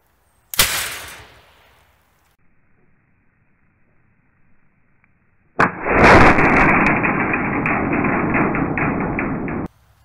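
A potato gun fueled with cheap hairspray fires one sharp, loud bang that fades quickly. A few seconds later a long, loud rushing hiss runs for about four seconds and then cuts off abruptly.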